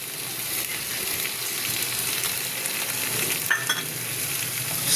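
Yogurt poured into a hot pan of paneer curry gives a dense, continuous sizzle and hiss that stays fairly even for several seconds, close up, with no voices.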